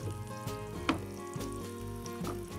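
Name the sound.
carp frying in olive oil, pan being shaken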